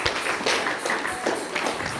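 A congregation at a mourning gathering in Geneva claps briefly, with close, uneven hand claps filling a short stretch.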